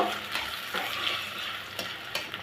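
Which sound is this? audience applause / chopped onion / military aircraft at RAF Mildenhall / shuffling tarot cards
chopped onion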